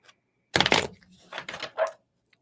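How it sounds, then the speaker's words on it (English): A deck of tarot cards being shuffled by hand in a quiet room, two short bursts of riffling and sliding card sounds, close and crisp, separated by a brief pause. "let's give this a good shuffle"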